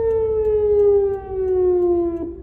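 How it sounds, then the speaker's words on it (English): A Minneapolis tornado siren sounds during its monthly first-Wednesday test: one steady, loud mechanical wail, slowly dropping in pitch as it winds down over a couple of seconds, heard from a distance in open air. "Minneapolis tests out their tornado sirens on the first Wednesday of every month"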